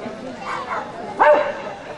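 A dog gives a short bark and yelp at an outdoor festival gathering, close and brief, amid a background of voices and crowd chatter.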